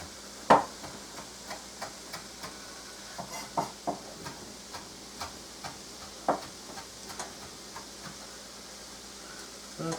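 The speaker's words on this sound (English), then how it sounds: "I'm just going to put it in a little ball, and I'm just going to give it a little chop" A knife chops a small ball of fresh parsley on a board, giving soft irregular taps, close and faint, about a dozen cuts in an uneven rhythm.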